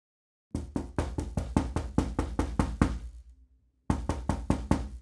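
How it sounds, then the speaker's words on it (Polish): Knocking on a door comes in a fast run of about a dozen firm, even raps, then a short pause and another quick burst of knocks, close and loud in a quiet room. "słyszę jak ktoś puka"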